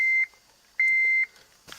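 A car stereo head unit gives two steady electronic beeps as it powers on, the second longer, followed by the start of a third, close and clear in a quiet car interior.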